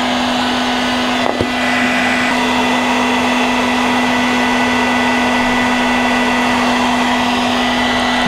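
Heat gun blowing hot air onto an engine part during engine removal, a loud, steady close whoosh with a constant motor hum, a brief knock early on.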